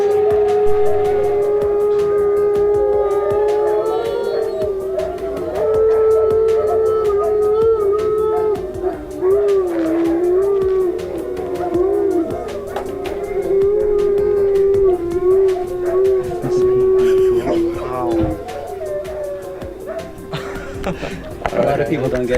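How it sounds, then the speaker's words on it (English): A pack of about 25 wolves howls together in the desert in a long, wavering chorus of overlapping rising and falling tones, loud and sustained with no break, while a person talks over it. "I'm standing in the middle of the desert right now with 25 wolves howling."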